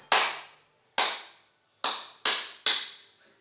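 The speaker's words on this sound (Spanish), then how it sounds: "Con las palmas podemos hacer diferentes sonidos." Five sharp, loud palm claps ring out one at a time with short decaying tails; the first two are spaced about a second apart and the last three come quicker, with no talking.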